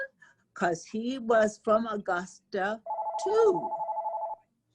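A telephone rings with a steady electronic trill lasting about a second and a half, right after a stretch of speech, with a voice briefly overlapping the ring.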